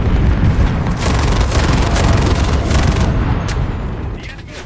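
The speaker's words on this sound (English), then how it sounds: "Everybody loves that artillery, don't they?" Heavy artillery fire in the Enlisted war video game rolls out as dense, continuous booming and explosive rumble, loud and close throughout, with scattered gunfire crackling in the mix.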